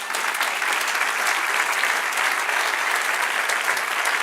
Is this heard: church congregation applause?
yes